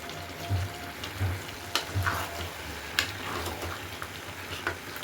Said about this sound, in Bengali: মশলাটা দেওয়ার পর সবজির সাথে ভালো করে মিশিয়ে নেব